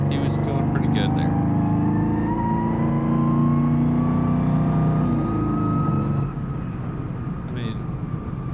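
A Ford 427-powered car accelerates hard with a steady rising gear whine over a loud, continuous engine drone that eases off near the end, while people talk over it.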